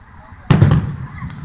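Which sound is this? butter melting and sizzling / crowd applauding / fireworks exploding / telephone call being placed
fireworks exploding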